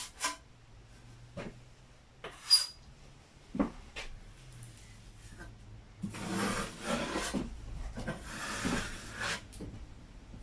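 Spackling drywall inner and outer corners, with a few soft taps and knocks and then a longer spell of quiet, repeated scraping and rubbing strokes as the compound is worked into the corner.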